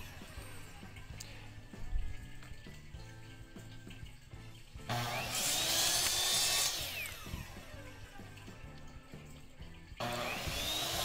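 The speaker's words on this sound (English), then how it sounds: "each of these discs have to be sanded to get rid of any hard or sharp edges" Small PVC discs being sanded with a power tool, giving a faint ongoing workshop hum that turns into two louder, harsher grinding bursts, each lasting several seconds.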